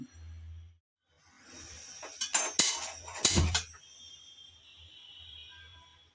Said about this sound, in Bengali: চা বসানোর জন্য একটা চায়ের পাত্র বসিয়ে দিলাম।